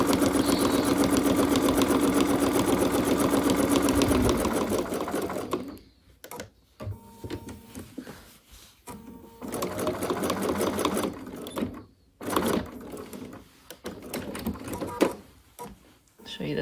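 A sewing machine stitches along the edge of quilt fabric, a fast steady mechanical whir for a few seconds, then stops and restarts in short bursts while someone talks nearby.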